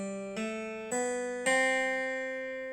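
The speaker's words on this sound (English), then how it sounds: "And then there is the Lydian, which has a sharpened, an augmented fourth" A Lydian scale, a major scale with an augmented fourth, played as clear sustained harmonic tones stepping upward, with several audible note changes heard alone.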